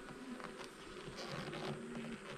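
Bees swarm at an opened beehive on a farm in central Portugal, filling the air with a dense, continuous buzzing hum that stays loud and close throughout.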